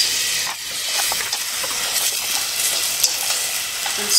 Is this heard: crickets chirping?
no